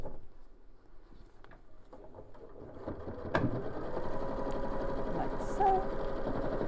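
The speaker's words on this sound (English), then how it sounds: "you could sew down each one of the pleats before you sew the pocket on" A sewing machine stitches down fabric pleats and then a pocket. After a quieter stretch with faint background sounds, a steady, rapid mechanical whir starts about halfway through and runs continuously and fairly close to the end.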